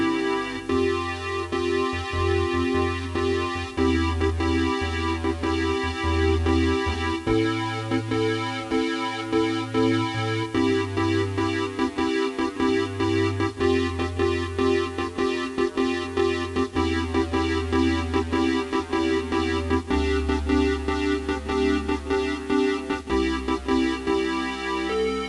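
A piano plays steady chords while a low bass line steps downward beneath them, continuous and evenly loud throughout.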